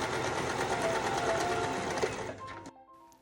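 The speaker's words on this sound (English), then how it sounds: "Sew a straight stitch across the end and trim any loose threads." A sewing machine stitching a straight seam across the folded end of a fabric handle cut from a thrifted sheet, a fast rattling whir close up that runs for over two seconds, then stops.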